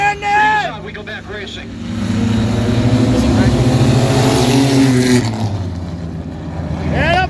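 All American Iron heat race at Sandusky Speedway, with race car engines roaring past in a sustained loud drone that swells and fades as cars pass, under excited spectator talk and shouting nearby.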